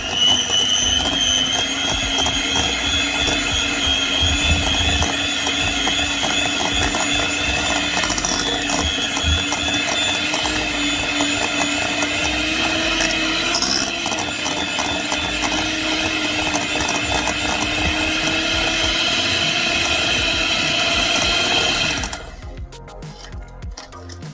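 An electric mixer whisking milk cake batter, a loud steady mechanical whir with a droning tone, running without a break before cutting off near the end.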